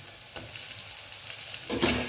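Tomatoes are stirred into masala rice frying in a pan, giving a steady close sizzle with scraping stir strokes, and a louder burst of frying near the end.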